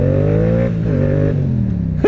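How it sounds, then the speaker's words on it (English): Yamaha R7 motorcycle engine revving steadily up close, its pitch climbing and dropping through several gear changes, ending with a sharp blip of the throttle. "riding a motorcycle like this does definitely put a smile on one's face."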